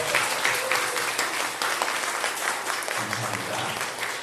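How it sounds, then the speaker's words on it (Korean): Congregation applauding new members at a Sunday church service, a dense, even wash of many hands clapping steadily throughout, with faint voices underneath. "뜨겁게 우리 환영의 박수 한번 해주시겠습니다"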